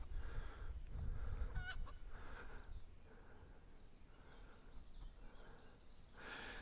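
Chickens clucking and honking in short, irregular calls, moderately close, with no one talking.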